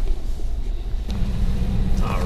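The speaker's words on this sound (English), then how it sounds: "that was our off-road drive here in the Titan" 2017 Nissan Titan pickup truck driving off-road, a close low engine rumble with tire and body noise that swells partway through, steady and unbroken over its short length.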